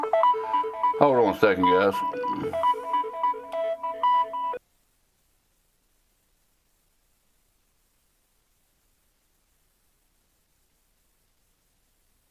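A phone ringtone plays as a repeating electronic melody under a voice, then cuts off abruptly, leaving silence.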